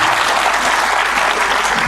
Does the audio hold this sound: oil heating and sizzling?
no